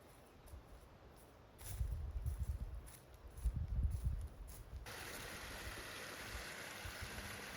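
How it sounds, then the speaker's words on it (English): Forest creek with little water cascades tumbling one after another in a small canyon, a soft continuous rush that is faint at first and grows fuller later, with a few nearby clicks and rustles. "Walking along this creek, and there's just all these little cascades over and over."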